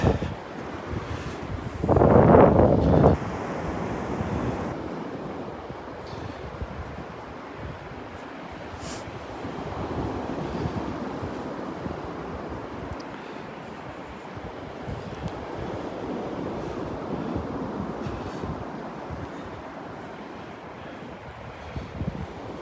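Wind gusts and waves wash on a beach at Delnor-Wiggins, a constant broad rushing roar with a louder gust burst early on, no talk.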